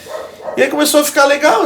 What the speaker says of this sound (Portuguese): quem tá ouvindo um cachorro no fundo aí é isso aí mesmo